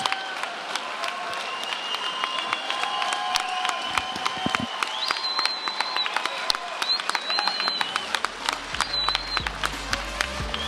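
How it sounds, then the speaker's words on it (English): Crowd applauding and cheering after a boxing bout at a fight event, brisk clapping with whistles and shouts layered over it, and a brief low thump midway. "They get the appreciation from the crowd."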